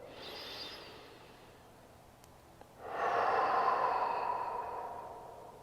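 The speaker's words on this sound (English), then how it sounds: "Let's do one more breath" Slow, deep breathing during a jaw massage: a soft exhale, a pause, then a longer, louder breath out that fades gradually, close and quiet.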